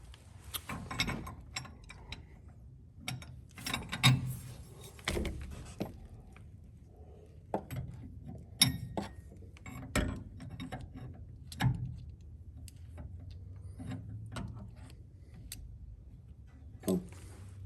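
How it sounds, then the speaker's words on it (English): A wrench ratchets on a fuel line fitting while a Chinese diesel heater is hooked up to a main fuel tank, giving repeated bursts of close, sharp clicking with brief pauses between strokes. "I'll take a wrench right here."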